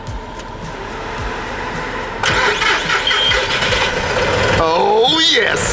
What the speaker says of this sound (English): I love the sound of a tractor.